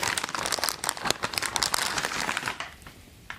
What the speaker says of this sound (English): cut the seal